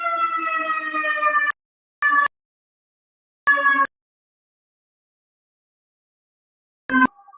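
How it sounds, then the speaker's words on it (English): A loud siren wails in a sustained tone, then cuts off and sounds again in three short bursts separated by silence. "there's a siren"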